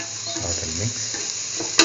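Sugar, salt and grated coconut are stirred in a hot sizzling pan, giving a steady frying hiss with a soft scraping stir and a sharp clink right at the end.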